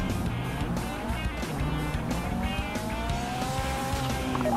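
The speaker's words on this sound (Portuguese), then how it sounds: "Esse é o carro que eu falei pra vocês, que é o carro blindado que a gente acabou roubando na heist anterior" An armored car drives in the video game GTA V during a heist, its engine running continuously with rising revs and tire noise, loud and close, with no talking.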